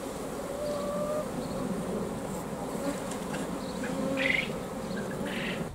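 Honey bees drone in a steady, dense hum around three beehives on an allotment in July, with a few louder individual bees buzzing close by.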